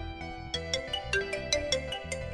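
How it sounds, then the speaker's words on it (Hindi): A mobile phone ringtone plays a bright, repeating electronic melody with a steady beat, clear and close in a quiet room. "इसको भी अभी बजना था यार। मेरा फोन ना तो पीछे नहीं छोड़ेगा।"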